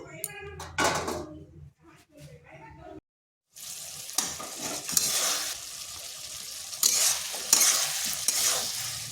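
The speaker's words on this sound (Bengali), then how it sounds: "তরকারিটা একটু ফুটে উঠুক" Bitter gourd and potato curry, both pre-boiled and fried, cooks in a pan with a splash of water: spoon scraping and stirring at first, a brief silent gap, then a steady, close frying sizzle with bursts of crackle.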